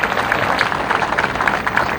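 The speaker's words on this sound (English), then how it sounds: "let's give another round of applause" Crowd applause at a political campaign rally, a steady dense wash of clapping from many hands, loud and close, with occasional brighter individual claps standing out.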